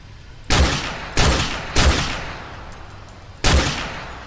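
Four loud, punchy gunshots from the video game Call of Duty Modern Warfare 2 Remastered fire at uneven intervals, each followed by a short fading echo.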